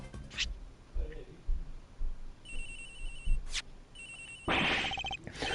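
In the Ace Attorney Investigations case Turnabout Airlines, an electronic phone ringtone sounds in two bright repeating bursts midway and at the end, mixed with soft thumps and rustles.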